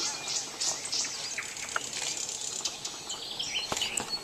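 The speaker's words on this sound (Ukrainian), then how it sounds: "Пташки співають." Birds chirp and twitter in a dense, busy chorus in Pripyat in the Chernobyl exclusion zone, over steady outdoor background noise, with some calls sounding close and others farther off.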